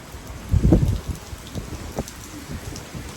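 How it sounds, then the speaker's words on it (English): Heavy rain with blowing wind hisses steadily, topped by a loud gusty rush near the start and quieter buffeting bursts afterward. "Blowing wind, rain, rain, rain."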